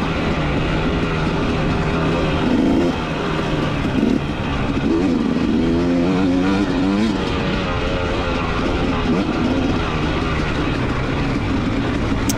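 A 2019 KTM dirt bike engine revs hard through a GP off-road race course, a loud continuous drone with rising and falling pitch as the rider works through gears, close and unbroken for the whole stretch.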